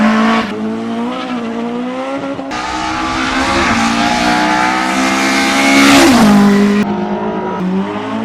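A 1960s Australian race car drifts at speed on the edge of grip, engine roaring loud and close with rising and falling revs and tire squeal as it slides through a corner, no voices.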